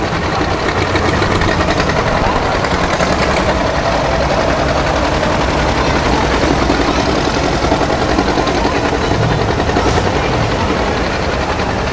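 Old tractor engine with a gutted muffler, running in a loud, constant, rough chugging roar that stays close and steady throughout, with no voices heard.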